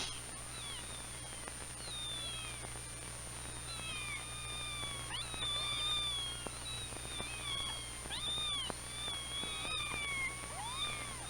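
Several young kittens cry and mew repeatedly from inside a box, high thin calls overlapping in an irregular stream over a low steady hum, with no talking.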